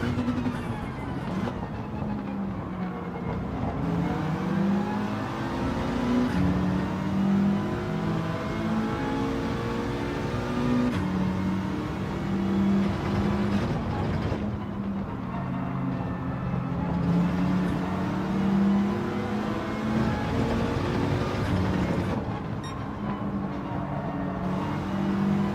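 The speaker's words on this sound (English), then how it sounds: "Rev it." A car engine in the racing game Gran Turismo 7 revs repeatedly, rising and falling in pitch in steady loud sweeps with brief pauses between bursts and no talk over it.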